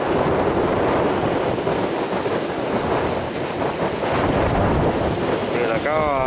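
Strong storm wind roars across the microphone as a boat pitches through big surf, with a constant wash of waves and buffeting gusts, and a voice breaks in briefly at the end.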